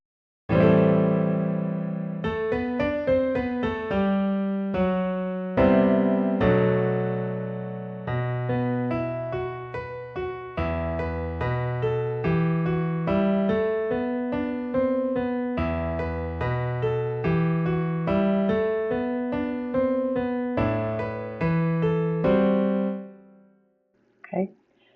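Piano piece played back in Logic Pro X with no sustain pedal, notes clearly separated and cut short as the melody moves steadily over about twenty seconds, loud and alone before ending abruptly.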